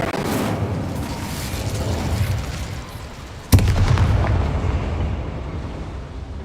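In Hogwarts Legacy, an Incendio fire spell bursts out as one sharp, loud explosive crack that gives way to a steady low roar of burning fire over continuing game ambience.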